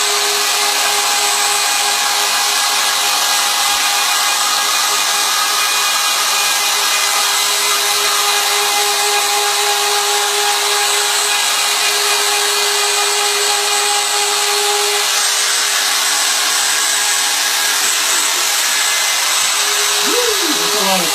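A power tool carves a wooden sign titled The Last Resort, throwing sawdust. It gives a steady, loud, grinding whine with a constant tone that runs unbroken throughout, with no talk.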